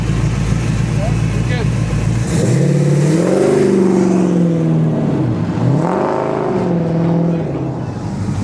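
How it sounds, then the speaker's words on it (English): A 1971 Plymouth Cuda at an outdoor car show, its engine idling and then revving in rising and falling surges before settling back, loud and close. "Here he comes, little 71 Cuda."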